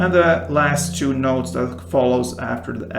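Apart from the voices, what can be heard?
No everyday noises stand out.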